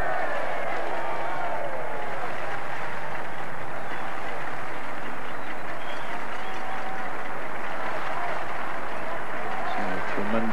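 A home crowd at an Essex v Yorkshire Benson & Hedges Cup semi-final cricket match in 1979 applauding an Essex century, a steady broad roar of clapping and cheering that fills the whole stretch, with a commentator's voice faintly beneath.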